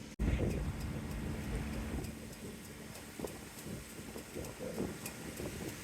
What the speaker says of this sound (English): Oh, the wind has picked up.